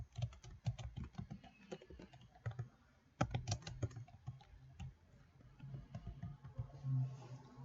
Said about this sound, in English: Let's type in our file name for our table